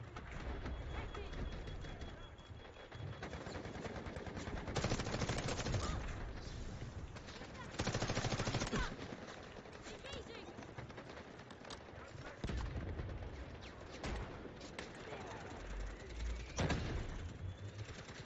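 Bursts of gunfire in the video game Delta Force crackle repeatedly over a steady background, with a person talking throughout.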